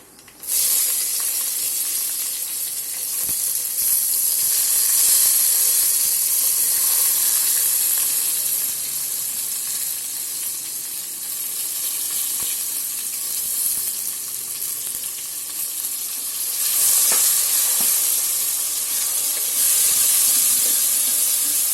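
Onions sizzle steadily in hot oil in a large pot for horse gram rasam, a loud, continuous close frying hiss with faint stirring swells throughout, no speech.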